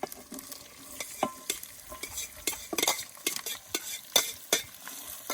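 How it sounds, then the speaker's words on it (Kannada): Five to six medium-sized onions fried in a pan for Mangalore-Udupi style chicken sukka: a steady close sizzle broken by frequent scraping stirs of a spatula against the pan, uneven in rhythm, with no one talking. "ಅದು ಹಾಕಿ ಚೆನ್ನಾಗಿ ಫ್ರೈ ಮಾಡಿ."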